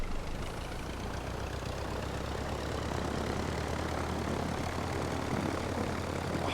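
A Robin DR400 light propeller plane in the X-Plane 11 flight simulator, its engine droning steadily and loudly with a broad, constant roar throughout, no voices over it.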